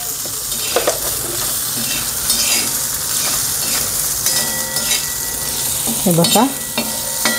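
Green chillies and tender tamarind roasting and being stirred in a pan for a green chilli thecha: steady loud sizzling with scraping stir strokes throughout, and a brief voice speaking over it.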